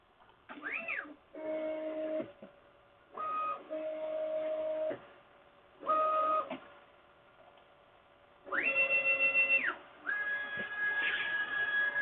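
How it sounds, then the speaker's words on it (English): An office printer runs in bursts of motor whine and stepping tones, several distinct print-head passes separated by short pauses, heard alone at moderate level. "let's get the printer doing something."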